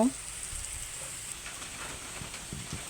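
Meat with chopped onion and chili frying in oil, a soft continuous sizzle with faint crackles, close and moderately quiet.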